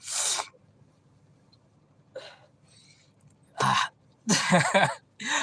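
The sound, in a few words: sniffing with a runny nose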